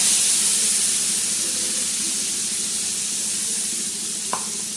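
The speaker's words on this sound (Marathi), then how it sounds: "त्याच्यानंतर आपण वाटलेला काळा मसाला टाकणार आहोत." Ground black masala sizzles and hisses in hot oil in a pan while cooking for a Maharashtrian chicken curry, a steady close frying hiss that slowly eases, with one faint clink near the end.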